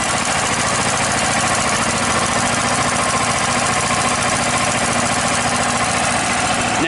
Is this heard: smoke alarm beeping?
no